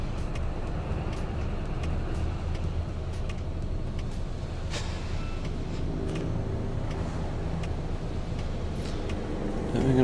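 Cars stream past in road traffic, forming a steady, nearby rumble of engines and tyres with occasional brief clicks and no voices, swelling slightly at the very end.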